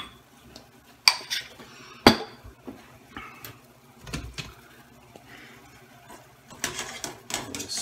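Fiddleheads get stirred in a boiling cooking pot, with scattered metallic clanks and scraping of a utensil against the pot, two sharp knocks early on followed by softer irregular clattering, close and fairly quiet.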